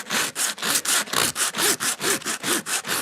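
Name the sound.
sanding W140 Mercedes wheel rim with 80 grit disc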